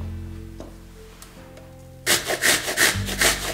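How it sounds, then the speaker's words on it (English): An apple with its skin on is rubbed against the coarse side of a kitchen grater, giving a burst of close, rhythmic rasping strokes that begins partway through after a quiet stretch. "I'm grating the apple with the skin on the coarse side of the grater."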